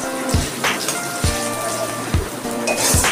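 Dried red chilli, cardamom, cinnamon, bay leaf and cumin crackle in hot oil for a Bengali egg and pointed gourd curry, a steady close sizzle with a few sharp pops scattered through.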